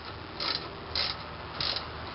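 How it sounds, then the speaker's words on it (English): A hand ratchet drives home the caliper bolts during a front brake job on a 2004 Ford Focus, giving a few faint, evenly spaced clicking strokes over a low steady background hum. "then we can drive those home with the ratchet"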